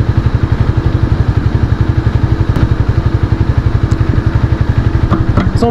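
A motorcycle idles at a pizza drive-thru, its engine a loud, steady rhythmic thumping pulse close by, with a few faint clicks toward the end.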